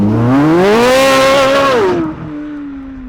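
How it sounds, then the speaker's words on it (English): A 2023 Chevrolet Corvette C8 Z06 launches hard, its engine rising to a loud, harmonic-rich wail as it pulls through the rev range, then cutting back to a lower steady drone as the car moves off. "gonna show you a little launch control on the 2023 Z06"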